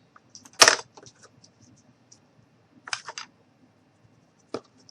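Cutters snip a small piece off a craft gnome's arm in a few sharp, close clicks, one louder snap near the start followed by quieter ticks, with silence in between.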